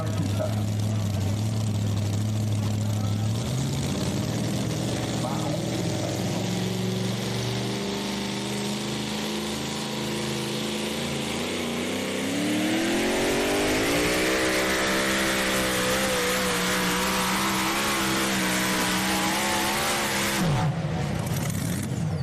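A pulling tractor engine at a county fair tractor pull idles, then revs up into a loud climbing roar that holds before cutting off, with an announcer talking over it.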